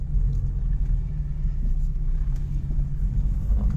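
A 1967 MG 1100 automatic pulls away and cruises in first gear, heard from inside as a steady low engine rumble and road drone, fairly loud and unbroken, with no talk.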